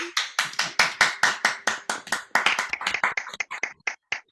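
Many people clap on an online poetry open mic call, a dense, fast run of sharp overlapping claps that thins out toward the end, close and loud with no talking.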